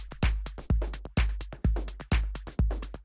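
A dry drum machine clap sample with no delay, from a minimal house groove, strikes sharply about every half second over a steady low kick pulse, six or seven hits in a row with nothing spoken.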